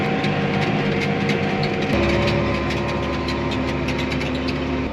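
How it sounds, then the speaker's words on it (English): Red tractor engines running on a farm, a steady close diesel drone with low harmonic hum that shifts pitch slightly partway through, loud and continuous with no voices. "Red tractors."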